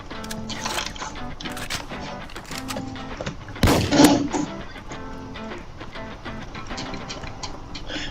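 A gunshot killing a zombie in a Roblox game, one loud close shot with a brief burst of noise, set among faint ticking clicks and soft game sounds.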